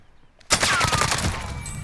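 Automatic gunfire in a Warzone duos match, a sudden loud burst of rapid shots after near silence, continuing densely with overlapping fire from several weapons.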